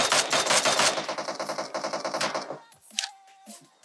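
Rapid automatic gunfire in the shooter game PUBG Mobile, a loud, steady stream of close shots for about two and a half seconds, then a few scattered sharp reports and clicks.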